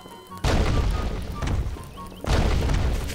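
Rocks fall and crash in Garry's Mod, two heavy booming impacts about two seconds apart, each loud and close with a rumbling tail and scattered smaller clatters.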